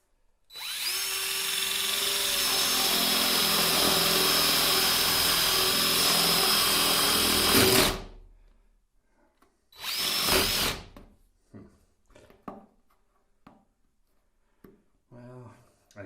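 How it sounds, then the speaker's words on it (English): A power drill fitted with a spade bit bores into a rubber tire, whining loudly and steadily for about seven seconds before stopping, followed by a second short burst and then scattered faint handling noises. "I've never drilled a hole in a tire before."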